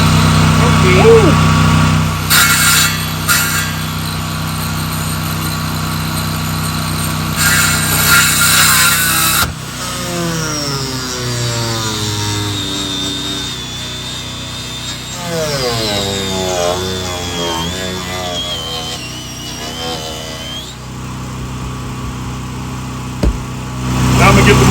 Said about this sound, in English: So we're going to use a 5-inch circular saw.